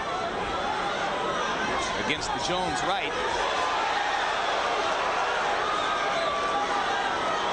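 Boxing arena crowd at Roy Jones Jr vs Montell Griffin, a steady roar of chatter and cheering for Griffin that swells briefly, heard under a commentator talking.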